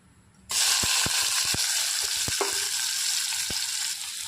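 Cut ivy gourd pieces drop into hot oil with cumin, mustard seeds and a little turmeric, setting off a loud, steady sizzle with scattered sharp pops and spatters from the seeds throughout.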